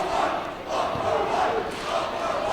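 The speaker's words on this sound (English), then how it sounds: "Onalaska crowd behind us is into it." A high school basketball crowd roars continuously through a WIAA sectional semifinal between La Crosse Central and Onalaska, a loud dense wall of cheering and yelling that swells and dips slightly.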